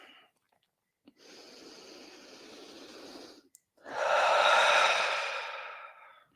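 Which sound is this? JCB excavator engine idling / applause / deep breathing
deep breathing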